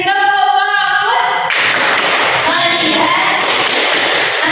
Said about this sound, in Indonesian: Sekali lagi, tepuk fokus.